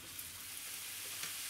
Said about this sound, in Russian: грибы нужно обжарить до полного выпаривания воды